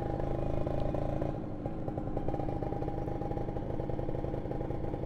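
A 2015 Kawasaki Ninja R special edition motorcycle's engine chugs at idle nearby, a steady low rumble with a faint clattery pulse throughout.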